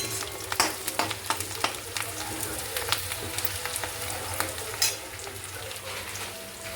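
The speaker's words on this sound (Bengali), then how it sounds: "কস্তুরি মেথিটা দেবো, দিয়ে আর একটু কষিয়ে নেবো" Chicken with kasuri methi sautés in a pan, giving a soft steady sizzle broken by repeated scraping and stirring clicks from a spatula, fairly quiet and with no talking.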